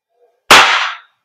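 A WE M1911 MEU airsoft gas blowback pistol fires a single sharp, close shot with a quick decaying tail, and nothing else is heard.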